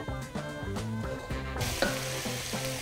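Celery and quince cubes tipped into a hot pan in the middle of cooking begin a loud, steady sizzle. Rhythmic background music plays beneath it.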